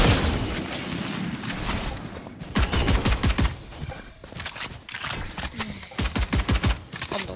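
Video game gunfire crackles in rapid bursts and volleys, loud and dense with booming hits, with a player's voice talking over parts of it.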